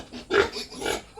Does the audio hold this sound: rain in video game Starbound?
no